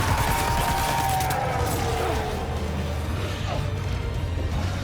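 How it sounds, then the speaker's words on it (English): Gunfire in the video game Death Stranding 2: a steady, dense rattle of shots and crashing mechanical noise under a low rumble, continuous across the stretch with no clear pauses. "Is it just Sam's blood that I'm shooting at, or...?"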